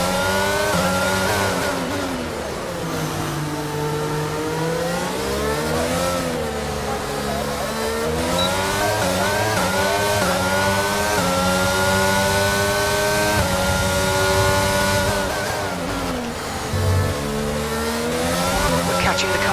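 An F1 race car in F1 22 at Monaco, its engine revving up and down through the gears with sweeping pitch changes, sustained and close, with a faint radio voice over it.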